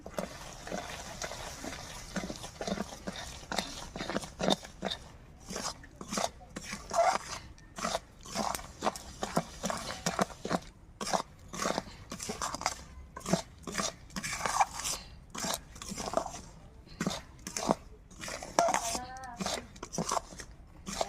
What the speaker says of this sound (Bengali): খুদগুলো রেখেছিলাম ঢেলে দেব দিয়ে একটু খুন্তি দিয়ে নাড়িয়ে নেব